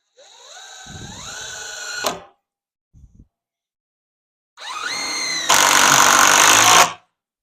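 A power drill drives big screws into a wooden truss. It whines up in pitch and then stops, and a few faint clicks follow. A second run then bogs into a louder, steady grinding as the screw seats, close by.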